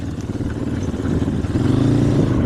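Yamaha Raptor 250 quad engine revving steadily close by, a loud, continuous mid-pitched drone with rough, rising throttle pulses through the clip.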